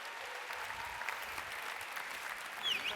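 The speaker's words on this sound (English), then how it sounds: "Give them a huge round of applause." Summit plenary audience applauding delegate speakers, a moderate, even round of clapping heard from a distance, with a faint whistle or cheer near the end.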